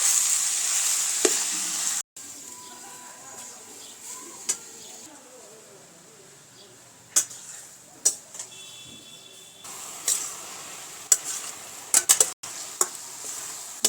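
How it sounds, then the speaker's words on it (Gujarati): Grated bottle gourd roasting in a pan for village-style dudhi halwa, with a steady sizzle and frying hiss and scattered scrapes and clinks of stirring against the pan. "અને આપણે સરસ રીતે શેકી લેવાનું છે।"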